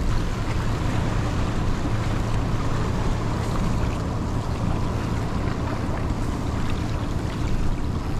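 Large waves churn and splash under a bridge while fishing, a dense, steady rush of water and wind noise close to the microphone, loud and unbroken, with no talking.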